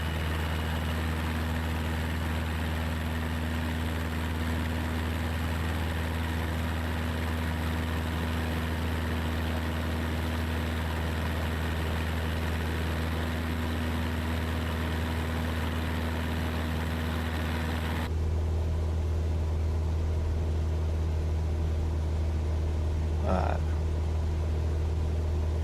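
A small aircraft engine drones steadily and loudly in flight, then its tone shifts abruptly near the end.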